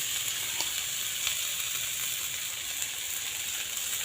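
Leftover rice frying in a pan with fried potatoes gives a steady, fairly loud sizzle that holds evenly throughout, with a few faint clinks and scrapes and no voices.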